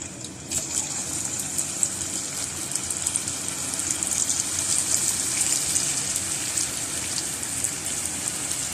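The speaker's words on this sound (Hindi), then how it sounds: "इसमें हम ये पोटैटो आहिस्ता आहिस्ता डालते चले जाएंगे।" Spice-coated potato chips dropped into very hot oil in a kadai: a continuous loud hiss and crackle of sizzling frying that builds slightly and holds steady throughout.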